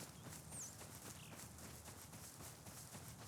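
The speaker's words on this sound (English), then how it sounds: "You can hear because of the footsteps on the ground." Faint, steady footsteps on the ground in the video game Rust, a soft rhythmic patter of steps running through the whole stretch under a low ambient hush.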